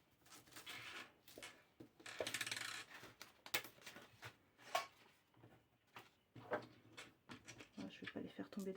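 Loose coins clink and rattle in short bursts as they are handled and counted out for a weekly household budget, close by and fairly quiet, mixed with rustling and light clatter while a person speaks.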